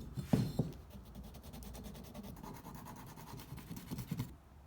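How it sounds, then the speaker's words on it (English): A plastic scraper rasps across carbon deposits on motorcycle pistons from a Yamaha Virago engine, making soft uneven scratching strokes up close, quiet and dry with no talking. "See if this plastic scraper will take care of it."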